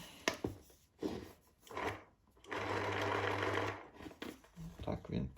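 A Caran d'Ache electric pencil sharpener runs idle, its motor giving a steady whirring hum for a little over a second, with a voice talking before and after and some handling knocks.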